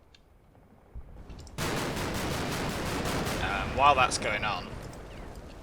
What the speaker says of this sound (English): this is definitely Mark 19 fire